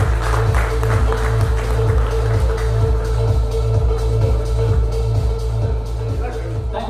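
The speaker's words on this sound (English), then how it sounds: "Round of applause, guys." Steady applause from an audience at a discus fish show and competition fills the room, a continuous wash of hand clapping over a constant low pulsing hum, with voices talking through it.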